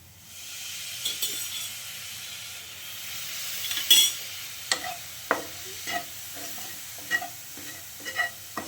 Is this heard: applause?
no